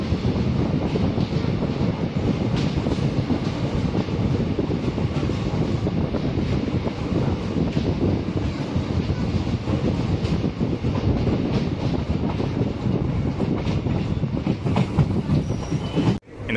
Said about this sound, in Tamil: எல்லா கோச்சும் இருக்கக்கூடிய ட்ரெயின்.